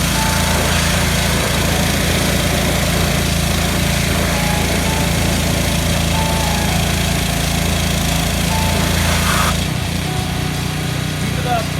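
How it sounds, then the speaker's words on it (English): A pressure washer being used on a trailer for rust removal runs steadily and loud nearby, a constant motor drone with a high whining hiss that barely changes, dipping slightly near the end. "finally got the pressure washer working"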